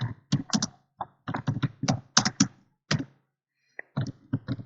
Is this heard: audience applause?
no